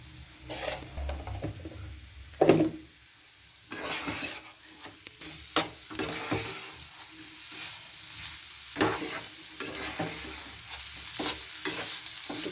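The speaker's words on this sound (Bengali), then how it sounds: "ভালো করে নাড়াচাড়া করতে হবে তেলটা ছাড়লে আমার জিনিসটা হয়ে যাবে" A spoon stirs a Bengali vegetable chop mixture frying in oil in a pan, with steady close sizzling broken by repeated scraping and clinking strokes and one louder knock, no voices.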